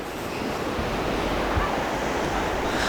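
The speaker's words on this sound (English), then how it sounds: "There's some rocks that are in the sea being covered over by some waves." Sea waves wash over rocks off Sennen Cove in Cornwall, a steady broad surf roar that holds level throughout with a hint of wind, no voices.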